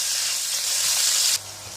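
Chopped onion sizzles and hisses steadily in a hot pan for mutton kofta curry, a continuous close frying noise that drops slightly in level near the end, with no talking.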